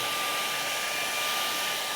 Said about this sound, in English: Spend a lot of time with the hairdryer on these.